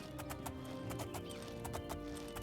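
A horse in the game Oblivion, rhythmic clip-clop of hooves striking at a steady gait, fairly faint over a low game background hum with no neigh evident.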